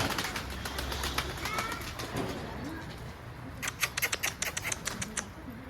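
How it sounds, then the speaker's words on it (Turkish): Pigeons gather outdoors, their soft cooing and calls running through a steady background, with a flurry of sharp flapping or clattering sounds near the end. "Abi var bir sürü kuş var dışarıda ya"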